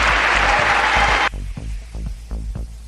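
Applause in the chamber of Congress, a dense burst of clapping from a large crowd that cuts off abruptly after a second or so, leaving a low rhythmic thumping behind.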